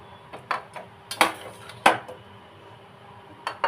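Metal cooking pot of pumpkin and jackfruit seed curry lifted off a gas stove, a few sharp metallic clanks and scrapes spaced apart against a quiet background.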